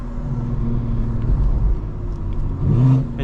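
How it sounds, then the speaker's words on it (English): A 2024 BMW G82 M4 Competition xDrive cruising on quiet town roads, its engine intake rumbling and whirring steadily close by, swelling into a brief rev near the end, with no pops or burbles. "And you can really hear the intake without the burbles."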